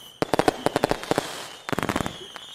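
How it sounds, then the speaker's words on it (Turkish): A fireworks sound effect plays as a rapid series of sharp bangs and crackles in two bursts, loud and close, with a short lull between them. "Havai fişekler geliyor."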